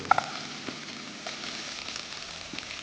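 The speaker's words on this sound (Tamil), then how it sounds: "நம்ம இஞ்சி பூண்டு நல்லா வதங்கினதுக்கப்புறம் இதுலேயே இந்த மட்டன் பச்சை மட்டன் போட்டு" Raw mutton fries with ginger garlic paste and onion in a pan, giving a soft, steady sizzling hiss with a couple of small clicks near the start and no talking.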